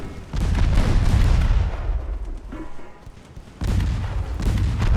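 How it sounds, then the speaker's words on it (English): Torpedoes are launched from an 1896-era French warship in a naval strategy game, heard as two heavy booming bursts of launch noise with a quieter gap between them. "Let's test our new torpedoes."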